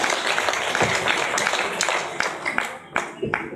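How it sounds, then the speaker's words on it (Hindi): Audience clapping with both hands raised at a Navratri-season public gathering, fairly loud, with separate sharp claps standing out from the steady patter, a voice talking through it and the applause thinning toward the end. "दोनों हाथ ऊपर उठा के एक बार ताली बजा दीजिए।"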